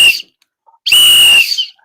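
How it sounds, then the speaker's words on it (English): A whistle blown twice as a final whistle, first a brief cut-off blast, then after a short pause a loud, shrill sustained tone lasting about half a second, close and with nothing else heard. "But Jackson, you can blow that whistle because now that was the final word"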